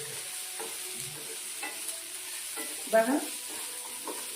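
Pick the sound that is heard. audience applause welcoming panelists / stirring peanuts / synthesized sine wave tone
stirring peanuts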